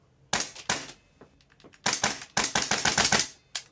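A Tokyo Marui MWS M4 gas blowback airsoft rifle firing with an upgraded Ace1Arms PMag: sharp, close snapping shots with bolt clatter, a few singles and then quick bursts of rapid shots.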